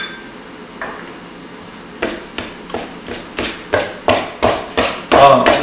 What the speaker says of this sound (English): rub your two knives together, cut your shortening in